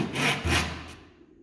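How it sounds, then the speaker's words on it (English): A hand saw cuts down into timber for a through housing joint, making two close rasping strokes followed by a fading scrape, nearby and with no speech. "I'm just going to saw that down to the required depth of 6mm"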